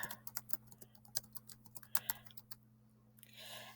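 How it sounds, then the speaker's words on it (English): A computer keyboard typed on at a school library catalog search station: a quick run of light, close key clicks, a brief pause, then a soft rustle, all quiet with no talk. "I type in the title and I hit enter."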